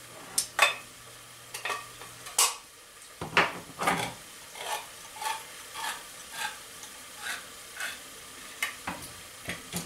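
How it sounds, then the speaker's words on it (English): A spoon stirs canned tomatoes with their liquid, onions and garlic in a pot, giving a series of soft scraping strokes and knocks that repeat at an even rhythm, close and fairly quiet. "give this another little stir."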